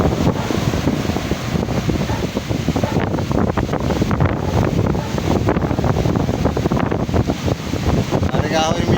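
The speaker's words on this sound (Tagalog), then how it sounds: "Sobra ka mga alon din eh." Big ocean waves and strong wind at a beach resort: a loud, steady rush of surf noise with heavy wind buffeting the microphone throughout.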